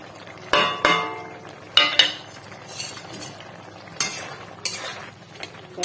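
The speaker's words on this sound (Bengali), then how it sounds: "একটু ফুটে এলো পুঁটি মাছগুলো দিয়ে দিচ্ছি" Puti fish going into a pan for an okra and puti fish curry, with sharp metallic clinks of a utensil against the pan, several separate knocks and scrapes close up, no voice.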